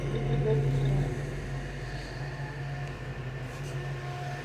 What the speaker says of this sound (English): I hear electric fan running